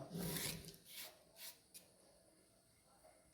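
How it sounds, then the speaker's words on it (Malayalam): Black lemon pickle with jaggery is stirred in a pan, giving a few soft rasping scrapes in the first seconds before it trails off to near silence. "നന്നായിട്ട് നമുക്കൊന്ന് ഇളക്കി കൊടുക്കാം"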